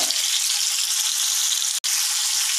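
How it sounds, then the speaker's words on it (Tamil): Chicken tikka pieces fry in a pan with a steady, bright sizzle that runs unbroken except for one sharp dropout near the end, close and fairly loud with no voices. "ஒரே பக்கமே வேக விடாதீங்க திருப்பி திருப்பி போட்டு வேக விடுங்க"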